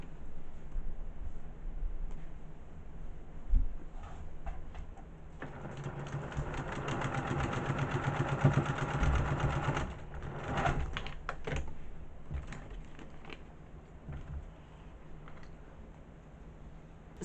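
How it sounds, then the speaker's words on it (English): Sewing machine stitching a seam through fabric and foundation paper for paper piecing, a steady close-up mechanical whir that runs for several seconds in the middle, with lighter clicks and handling before and after. "we're going to sew on this line between the sections we've already got on there and the section we're putting on"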